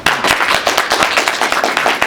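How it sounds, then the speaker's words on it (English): A dense round of applause from an audience, with many hands clapping fast and loud, the sound holding steady for the full two seconds without any talking. "I'd like all of us to give her a heartfelt round of applause."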